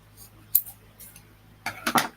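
A few sharp scissor snips, one quick cut followed by a pause, then a louder pair of snips close by.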